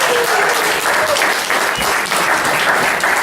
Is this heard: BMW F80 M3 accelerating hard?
no